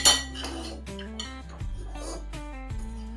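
A fig barfi mixture is stirred and pressed in a metal pan, with a sharp clink at the start followed by repeated scraping and clanking of a utensil against the pan.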